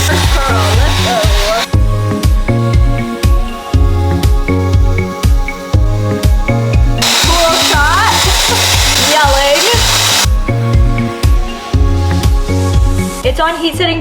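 Shark FlexStyle hair styler with a curling barrel blowing on heat setting 2, a loud, close, continuous airflow whoosh that swells brighter for a few seconds mid-way, with background music playing throughout.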